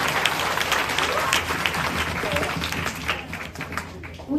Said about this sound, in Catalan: Un aplaudiment per l'ajuda.